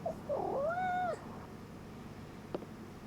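A cat in the Life is Strange: Double Exposure video game gives one clear, drawn-out meow close by, then the scene goes quiet apart from a soft click and low background hum.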